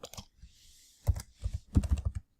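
A computer keyboard is typed on in a few short bursts of quick, soft key clicks, close up and alone, with a brief pause between bursts.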